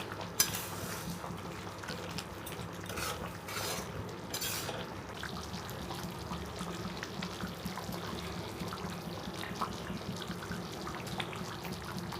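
Spice mix is stirred into raw mango pickle in a pan, a steady close scraping and wet churning with a low background hum, a few brief clacks early on, and no talking.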